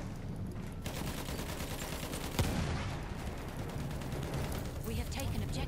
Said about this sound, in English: Who are you shooting, Joe?